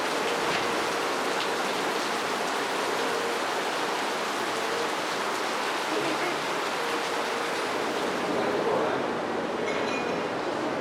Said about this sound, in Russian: О, какой дождь ливанул.